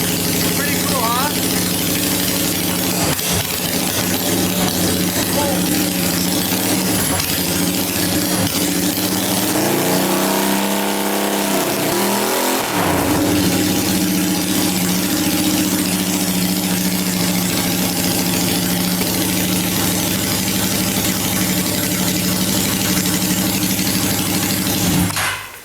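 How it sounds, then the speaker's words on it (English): A Honda Shadow VT600 motorcycle with wide-profile exhaust upsweeps runs close and loud for the whole stretch, idling with a steady throb and blipping the throttle once midway. "And that's what a motorcycle sounds like"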